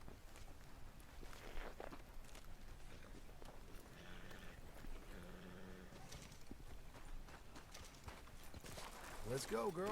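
Horse hooves clip-clop in Red Dead Redemption 2 gameplay, a steady walking rhythm of hoofbeats under game ambience and music, with a voice talking over much of it.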